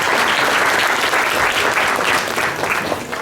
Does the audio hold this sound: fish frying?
no